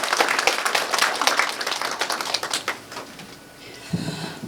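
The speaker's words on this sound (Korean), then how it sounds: "뜨거운 박수로 축하해 주시기 바랍니다" Party members at a provincial founding convention applaud the election of a new regional chair, a burst of clapping that is loud at first, thins out toward the end and fades into room murmur.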